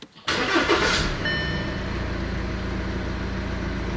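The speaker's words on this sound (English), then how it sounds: "We can now start the car and see if the engine light appears or not." An Audi A4 B8 engine cranks and catches after a brief quiet moment, then settles into a steady, close idle with a faint high whine on top.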